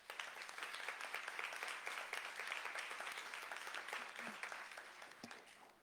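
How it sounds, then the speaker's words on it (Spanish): Warm, continuous applause from an audience at a book launch on gender studies, heard at a distance and fairly soft, rising at once and tapering toward the end. "Le damos un aplauso, por favor."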